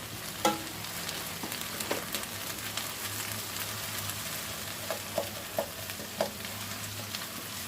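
Ginger-garlic paste with fried onions being stirred in a pan for a ridged gourd (tori) curry: a continuous low sizzle under repeated scraping and clinking strokes of a spoon, fairly close and moderately loud.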